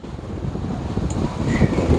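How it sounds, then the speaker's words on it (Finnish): Strong wind of a little over 20 knots blowing steadily while sailing through a strait in the Caribbean, a continuous low rushing roar building slightly toward the end. "Näissä salmissa aina tuulee kovaa, että nyt tää tuuli on koko ajan tällaista vähän yli 20 solmuja."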